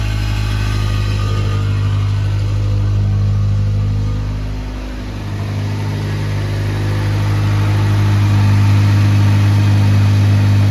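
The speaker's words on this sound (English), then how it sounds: "It's idling wicked high." A Honda Civic engine with smoky headers idles at a high, steady rpm, a loud, close, continuous mechanical drone with a slight dip in the middle, and no voices.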